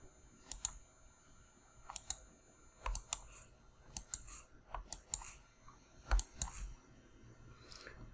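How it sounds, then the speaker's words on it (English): Computer mouse clicks at a close range, isolated sharp clicks spaced about a second apart, some doubled, quiet and alone with no talk. "See if I'm clicking the mouse too fast."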